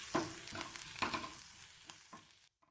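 Chopped onions frying in a pan with green chili, garlic and ginger stirred in, giving a steady close sizzle broken by several scraping stirs before the sound cuts off.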